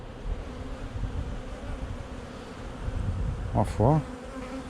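Honeybees swarm and circle beneath beehives at a seaside apiary in May, making a steady, dense buzz throughout, with a person briefly speaking near the end.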